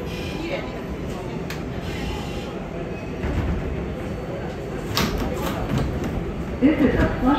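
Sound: New York subway 7 express train (R188) running

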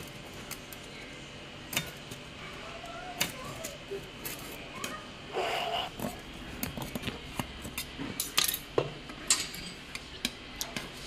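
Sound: knife cutting the edge of a biscuit cake

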